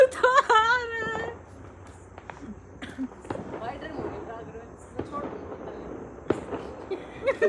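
Diwali firecrackers go off outdoors in sharp, scattered bangs and crackles, some near and some farther away, with people talking and calling out in between.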